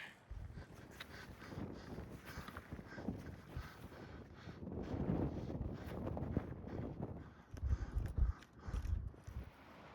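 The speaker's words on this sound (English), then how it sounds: "It's a little windy here." Steady wind rumbling and buffeting a microphone outdoors in the Wind River mountains, with gusts swelling louder in the second half; no voices.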